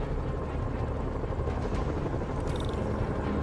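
A video game helicopter's rotor chop, a dense continuous low beating drone at moderate level, with a brief electronic tone partway through and no speech.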